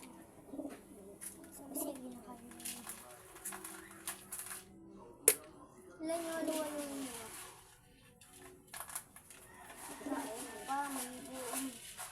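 Pigeons cooing while being fed, soft repeated throaty coos near the microphone amid a sharp click and light rustling, with a person talking quietly between the calls.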